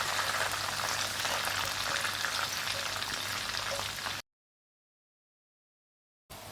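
Onions fry with cinnamon, cloves and cardamom for prawn biryani, giving a steady, close sizzle that cuts out into a gap of silence before briefly returning.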